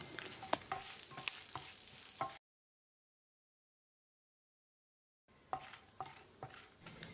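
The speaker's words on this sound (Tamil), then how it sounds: "இப்போ இதோட ஒரு 2 கொத்து கறிவேப்பிலையும் சேர்த்து வறுத்துக்கலாம்" Spices and a couple of sprigs of curry leaves fry in a pan with close sizzling and scraping. A silent gap splits the sound, and the frying then resumes briefly.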